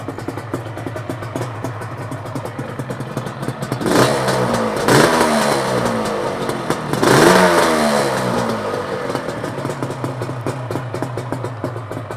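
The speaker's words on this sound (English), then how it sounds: "I'll show you that sound." A 1982 Yamaha RD350 LC two-stroke motorcycle idles close by with a rattly, buzzing note, then rises in two sharp revs before settling back to idle; no one speaks.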